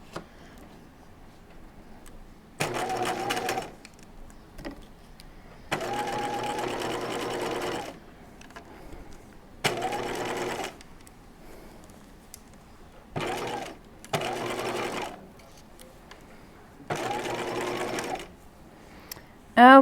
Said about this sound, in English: I'm going to switch the needle in so that I'm stitching about 1/8 of an inch from the edge here